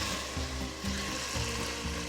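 Peppers sizzle and fry in a hot pan for a rabbit stew, a continuous soft crackling hiss with faint stirring bumps.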